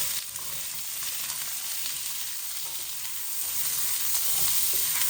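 Onions sizzling steadily in hot oil in a pan for a creamy shahi paneer curry, a continuous bright frying hiss held at an even level close up, with no talking.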